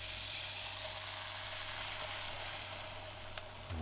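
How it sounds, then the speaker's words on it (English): Butter melts and sizzles in a frying pan for a pizza toasted sandwich, a close, steady, bright hiss that eases off slightly toward the end, with a light clunk at the finish and no talking. "get some butter and we'll melt it in the pan here"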